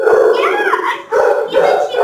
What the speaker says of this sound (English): Oh, they're puppies?